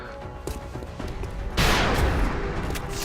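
Gunfire in the video game XCOM erupts midway as a burst of loud shots and impacts, preceded by quieter game ambience and a few sharp clicks.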